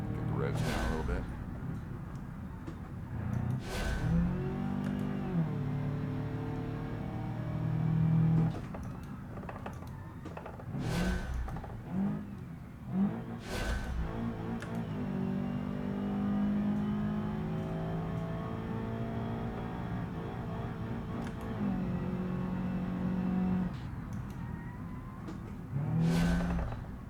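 A car engine in the BeamNG.Drive driving game, a shawl-style car with a radiator upgrade on a race track in manual gear, revs rising and falling with sharp gear-change bursts while someone talks over it throughout.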